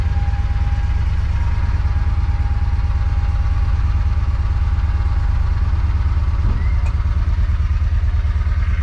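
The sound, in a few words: John Deere Gator 620i engine running after start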